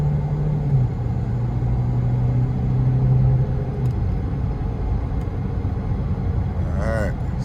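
A car bought at auction drives along with a steady engine rumble and road noise, cruising at an even pace with a slight change in engine pitch. Someone talks over it.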